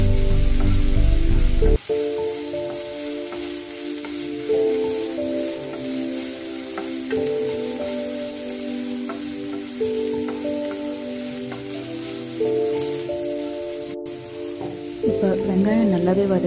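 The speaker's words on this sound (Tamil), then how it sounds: "இப்போ வெங்காயம் நல்லாவே வதங்கிடுச்சு" Chopped onions sauté in a hot pan for tomato rice, making a steady, close sizzle and crackle that carries on throughout with soft stirring and occasional scraping.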